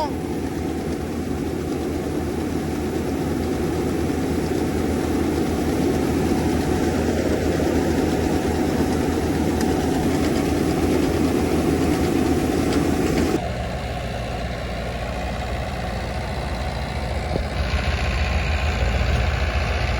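A tractor engine idles with a steady deep rumble and rough knocking undertone, close and continuous, its tone shifting partway through; voices talk over it at times.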